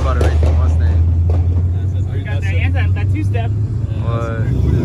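A BMW F82 M4 sitting on two-step launch control, a loud, low, droning engine note held steady at close range with rough crackling on top, while people talk over it.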